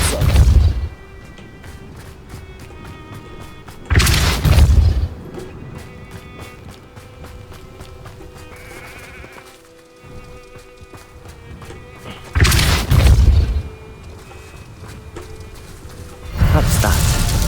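Depulso spell blasts in the Hogwarts Legacy video game hit as four heavy, booming bursts spaced several seconds apart over a quieter ambient game backdrop.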